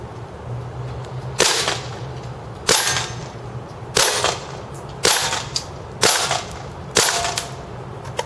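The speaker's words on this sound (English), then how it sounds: "Alright, now it's time to shoot a can." Six sharp, loud snapping shots at an even pace, about one every second, from a WE G36c gas airsoft rifle firing semi-automatic at a can after its magazine was regassed. No voices are heard over the shots.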